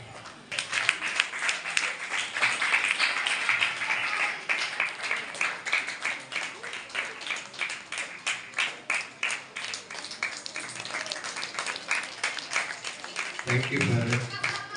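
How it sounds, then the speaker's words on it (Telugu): A church congregation at a Catholic prayer meeting claps loudly for a married couple, a sustained burst of dense applause lasting several seconds, with a voice speaking over the start and again near the end. "గట్టిగా చప్పట్లు కొడదాం"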